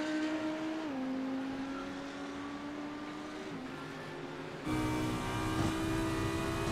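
A GT3 race car driving on track in a racing video game, a steady engine drone with gear-shift pitch drops, then a louder, rougher engine roar in the final seconds.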